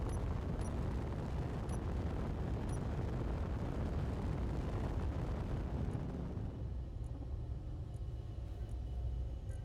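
Weapons firing downward in Space Engineers, a dense, loud rumbling roar of continuous blasts that fades after several seconds into a lower, quieter rumble.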